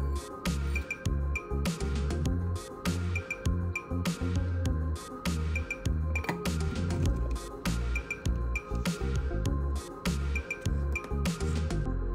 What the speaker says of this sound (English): Pour gasoline or solvent into the jars. Seal them tightly and connect them with a hose,